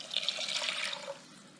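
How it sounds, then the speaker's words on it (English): Water pours into a pot of curried lentil, tomato and coconut soup on a gas stove, a steady close splashing rush that runs about a second and then trails off into quieter trickling. "We're going to add the water."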